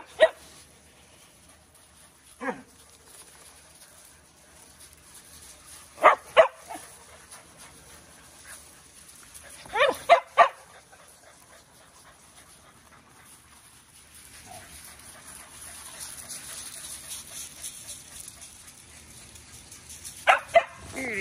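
Muddy puppies bark in several short, sharp bursts scattered across the stretch, some in quick doubles, with quieter gaps and a faint background hiss between them.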